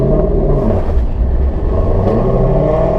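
Corvette engine roaring under load while drifting on a track, a loud continuous low rumble with rising and falling revs throughout, no voices.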